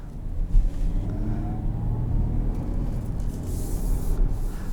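A 2022 Kia Carnival EX minivan rolls along the road, its steady low cabin rumble and road noise broken by a soft thud as it passes over a bump.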